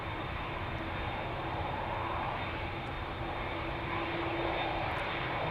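KLM Boeing 787 Dreamliner taxiing onto the runway at Amsterdam Schiphol Airport, a steady broad jet engine roar with a faint whine, continuous and fairly close, with no voices.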